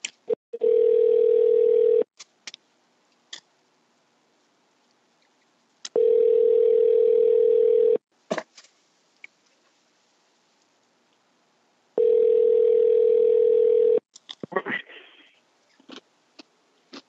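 A telephone dial tone after a hang-up sounds in three steady two-second blasts separated by quiet gaps, loud and close, with faint clicks and handling noises between them.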